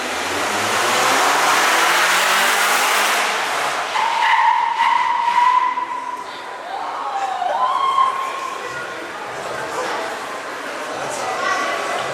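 Toyota trucks are driven hard at a car exhibit, with loud engine noise and screeching tire skids rising and falling over several seconds while people talk nearby.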